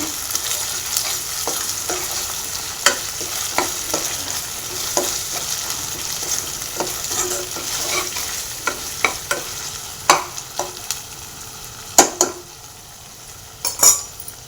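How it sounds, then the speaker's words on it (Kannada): Ground masala paste frying in oil while a spoon stirs it, with a constant sizzle and frequent sharp scrapes and clanks against the pan, the strokes growing louder toward the end. "ಆಯಿಲಲ್ಲಿ ಇದನ್ನು ಚೆನ್ನಾಗಿ ಫ್ರೈ ಮಾಡ್ಕೋಬೇಕು ನಾವು"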